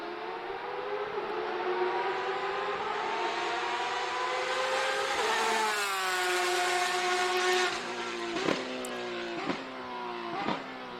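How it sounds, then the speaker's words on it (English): Porsche RSR race car approaching from a distance, its loud exhaust echoing off the surroundings as a rising engine whine with shifting pitch, then sharp gearshift pops as it nears. "Because the car is so loud that it's producing so much echo when it's this far away, coming towards us."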